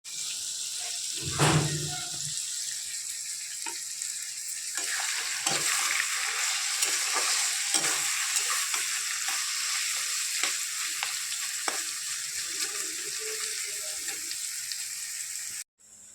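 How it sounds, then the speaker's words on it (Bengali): Bitter gourd (karela) frying in a home kitchen pan, a steady hiss of oil running throughout with scattered clinks and splashy bursts, close and fairly loud, ending abruptly. "একটু করলা ভাজি বসিয়েছি"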